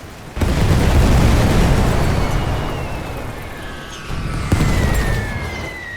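Grenade explosions in The Great War 6.0 battlefield game go off as two loud, deep blasts, the first near the start and the second later on, each followed by a long rumbling roar.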